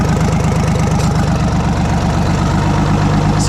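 A Detroit 6V71 two-stroke diesel engine in a restored truck idles steadily and loudly up close, with a rough, rhythmic low throb and a slight knock throughout.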